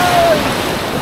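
Ocean waves at Laki Beach in Mariveles, Bataan, during the rainy season, a loud, broad rushing wash of surf close by, with wind noise buffeting the microphone.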